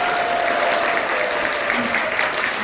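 A congregation at a Salesian youth praise Mass claps together in a steady, dense wash of applause filling the room, with no voices standing out.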